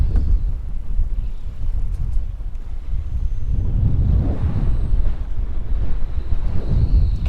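Wind buffets the microphone on a small fishing boat out on a bayou, a loud, steady low rumble with gusting surges and faint water movement, no voices.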